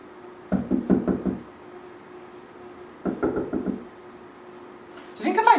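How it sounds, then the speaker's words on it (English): Knocking on a door in two rapid bursts of several raps each, close and loud, separated by a quiet pause, with a brief further knock at the end. "Do you think if I knocked on the door the other way, like, somebody would answer?"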